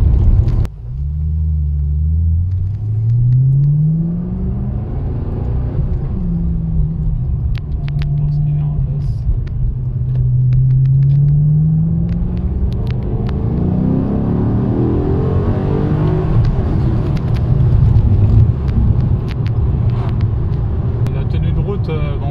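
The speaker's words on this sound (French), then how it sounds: "petit ronronnement du V8, on s'en lasse pas" A Maserati GranSport V8 engine hums low and steady, its revs rising and falling in smooth swells close by, while someone talks over it throughout.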